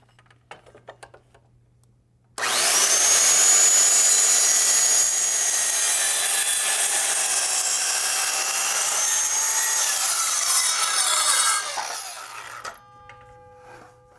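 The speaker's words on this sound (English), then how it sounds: "Line up the saw blade." A power saw cuts through a wooden board for a beginner's farmhouse table, a loud, steady whine lasting about ten seconds after a quiet start, then winding down into faint tones.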